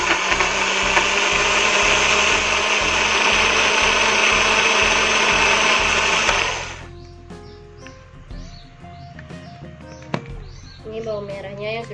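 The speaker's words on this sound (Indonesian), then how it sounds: "Ini bawang merahnya yang sudah di blender" A blender chopping shallots whirs loudly and steadily for about six seconds, then stops, leaving quiet kitchen clatter and light handling sounds.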